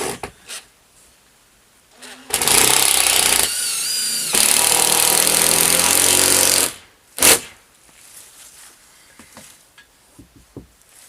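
A power driver drives sarking screws through roof counter-battens in a loud continuous burst of about four seconds, with a brief dip partway through. It ends with a short final spurt and is followed by quieter handling clatter.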